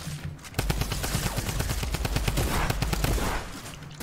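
Rapid automatic gunfire rattles loudly and continuously for about three seconds in a video game arena match, dense overlapping shots close by with no talk over them.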